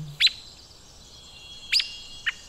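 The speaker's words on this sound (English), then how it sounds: "chatterboxes like the Pacific wren, so that that really high pitched thing that's going on up there" Very high, thin chirps from a Pacific wren in an outdoor soundwalk, three brief bursts spaced apart over a faint ambient background, fairly close and clear.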